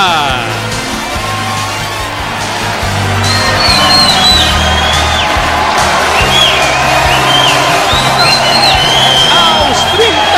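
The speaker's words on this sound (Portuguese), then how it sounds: "A torcida grita o nome de Pedrinho" Football crowd at a Vasco versus Bangu Taça Guanabara match in 2000 chanting after a Pedrinho goal, a loud massed roar with rising whistles and shouts, steady under an excited commentator's voice.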